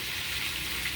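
Food fries in a pan with a continuous fine crackling sizzle, close and even, with no talking.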